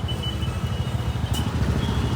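A Honda H'ness CB350 motorcycle with a Red Rooster aftermarket exhaust idles close by with a loud, steady, deep thumping beat that continues evenly until it cuts off abruptly at the end.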